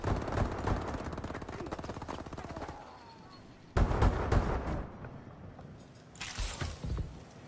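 Video game gunfire: loud bursts of rapid automatic shots and scattered blasts, with a dense volley at the start, a brief lull, then renewed heavy firing and a final sharp burst.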